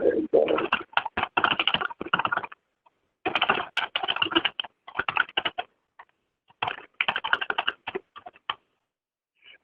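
Typing on a computer keyboard, shown as rapid clicky keystroke bursts in several runs separated by short pauses, fairly close and clear with no talking.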